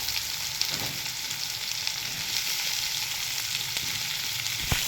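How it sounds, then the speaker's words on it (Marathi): Finely chopped onion frying in oil for a kanda tomato chutney, producing a dense, even sizzle that holds steady with a couple of faint scraping stirs. "आता चांगला परतवून यायचा कांदा"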